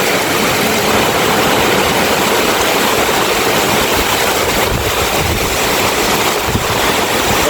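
Strong typhoon wind and rain lash Cavite, a loud, steady roar of gusting wind and rain across the whole stretch with no letup.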